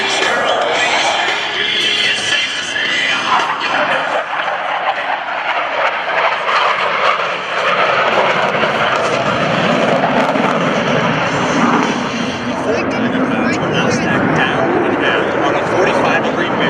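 US Navy Blue Angels jets crossing over center point at a military open house airshow, a loud continuous jet roar filling the whole stretch with a swelling rush midway, while an announcer talks over it.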